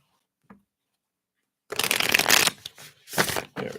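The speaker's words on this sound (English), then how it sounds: "Let's give these another little shuffle here." Tarot cards are shuffled in quick bursts of riffling, crisp and close, after a brief tap and a quiet pause.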